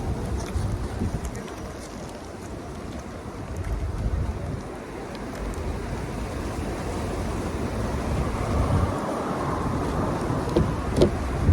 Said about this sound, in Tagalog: kanina lang nag-start yung hangin